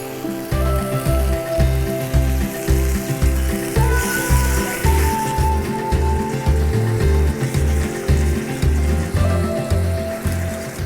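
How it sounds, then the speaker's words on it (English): Sticky sugar-marinated beef frying over high heat in a hot pan for a Korean beef stir fry, a loud continuous sizzle with rhythmic scraping and stirring pulses throughout, no voices. "that beef's now been in the pan quite a high heat for the last couple of minutes"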